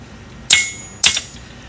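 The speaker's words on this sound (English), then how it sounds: "And then I would tap that down with my hammer" Two sharp metallic hammer taps drive a hold-down tool into the hardy hole of an anvil, each a bright ringing strike about half a second apart, loud and close with short decays.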